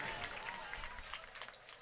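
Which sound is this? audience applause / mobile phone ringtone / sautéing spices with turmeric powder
audience applause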